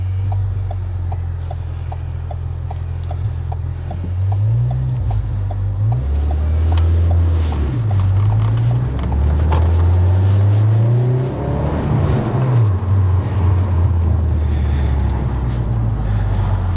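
Deep, bassy rumble from a Ford Focus ST3 through a 3.5-inch stainless steel exhaust, close and loud, with a steady idle that swells into several revving rises and falls as the car pulls away, with no voices.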